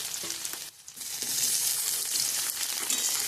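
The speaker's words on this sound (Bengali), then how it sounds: "এটাকে কিছুক্ষণ আমি ভেজে নেব" Grated chopped onion and tomato fry in a hot pan, giving a loud, dense, close sizzle that dips briefly near the start and then holds steady.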